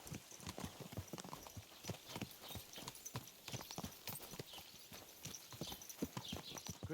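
Horse hooves clip-clop steadily in the medieval video game Kingdom Come: Deliverance 2, a brisk, even rhythm of close, fairly quiet footfalls with no talking.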